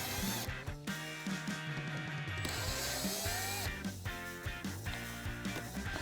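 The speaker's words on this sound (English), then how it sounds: "I'm using an 8 millimeter socket." Rapid clicking of a ratchet wrench with an 8 millimeter socket turning license plate bolts on a Tacoma rear bumper, in close, repeated bursts with short pauses between.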